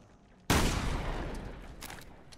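A single loud gunshot from the video game Resident Evil: Revelations 2 cracks sharply and then rings out in a long fading tail, with a fainter second blast following shortly after.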